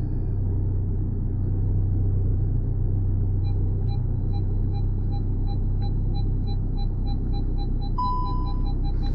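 A CUPRA Ateca reverses under park assist with a low, steady engine rumble close by and a faint, regular beeping of the parking sensors that speeds up near the end, with no talk.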